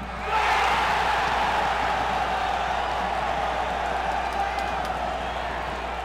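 A stadium crowd at Castelão roars steadily in celebration of an early goal, a broad, sustained wash of cheering and applause with no breaks.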